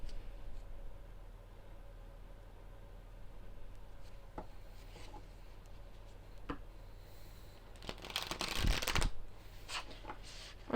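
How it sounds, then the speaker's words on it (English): A deck of tarot-style cards being shuffled by hand, a soft riffling rustle that swells into a louder burst of card noise near the end, close and alone with no talk. "When I shuffle, I don't even look at what the cards are."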